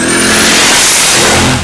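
A turbocharged V8 in a Holden Torana drag car, fitted with a Borg Warner S476 turbo, revs loud and close in a continuous roar with a rising whine, filling the whole stretch with no talk.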